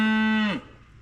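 A single loud, close cow moo in Montana's Bitterroot Valley, a low drawn-out call that ends abruptly about halfway, followed by quiet background.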